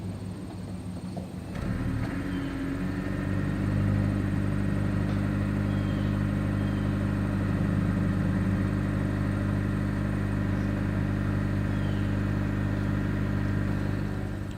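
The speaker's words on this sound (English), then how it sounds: "As always, here is that exhaust clip." A 2021 Honda Insight's exhaust idles steadily up close, a low, even rumble from the start-up at the outset that holds with little change and no voices.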